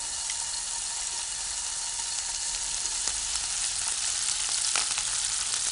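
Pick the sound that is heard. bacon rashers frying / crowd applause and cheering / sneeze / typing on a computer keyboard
bacon rashers frying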